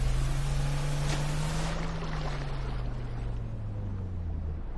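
Boat engine from the video game GTA 5, a steady droning hum with a slowly falling pitch, holding close and constant throughout with no talking.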